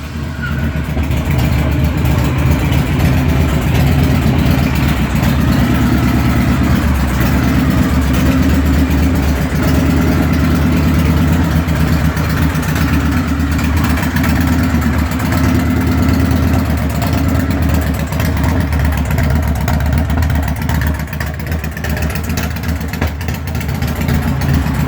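A 2004 Victory Kingpin motorcycle engine idles steadily after a cold start, a loud, continuous low rumble close by that holds evenly without revving.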